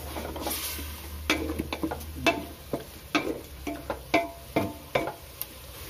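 A spoon scrapes and stirs spices frying in oil for vegetable biryani, each stroke clacking sharply in an irregular rhythm over a steady low hiss.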